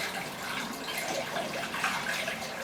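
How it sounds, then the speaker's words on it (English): Cooled beer wort for a yeast starter is poured into a container, giving a steady, fairly loud splashing, gurgling stream of liquid that runs unbroken for nearly three seconds, with no voices. "pour it in here."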